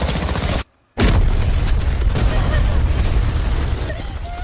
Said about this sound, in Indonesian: mengambil sebuah granat untuk ia lempar ke dalam terowongan dan